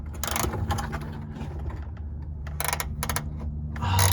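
Mechanical clicking and ratcheting while a fuel system fitting is tightened on a Civic race car, a steady low hum underneath with a few bright bursts of metallic clicks near the start and end.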